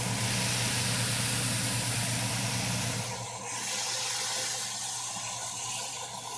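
A smashed burger patty sizzles loudly on a hot griddle, a steady dense hiss with a low hum beneath, easing slightly after a brief change midway as the sizzle carries on alone.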